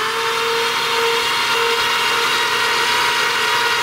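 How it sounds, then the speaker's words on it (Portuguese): Starter motor cranking a 700 hp VR6 engine in a four-wheel-drive Golf MK3, a loud continuous whirring drone with a steady mechanical rasp, close and unbroken, no voices heard. "Vamos continuar até fritar o motor de arranque, né?"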